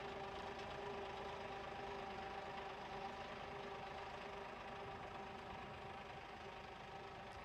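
A GPS-autosteered tractor drives straight across a field, its engine a steady, continuous mid-pitched drone with a low rumble and faint knocking, unbroken and fairly close, with no talk.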